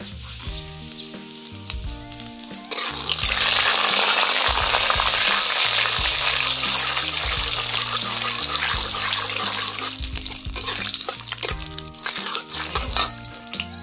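Bay leaf, dried red chillies and five-spice tempering hitting hot oil in a Bengali kitchen, a sharp sizzle that swells loudly after a few seconds and crackles steadily throughout, with background clatter and no speech.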